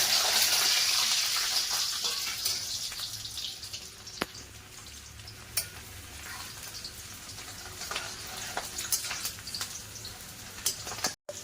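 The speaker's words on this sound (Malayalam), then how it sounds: "ഇതിനകത്തോട്ട് നമുക്ക് വേണ്ട ഇഞ്ചിയും പിന്നെ വെളുത്തുള്ളിയും കൂടെ വറുക്കണം." Ginger and garlic fry in a pan for lunch, giving a steady sizzling hiss that is loudest at the start and eases off, with a few light clinks of a utensil.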